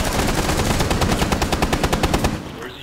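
Loud automatic gunfire rattles in a fast, even stream of shots in Rainbow Six Siege on the Kafe Dostoyevsky map, close and steady for over two seconds before cutting off into quiet.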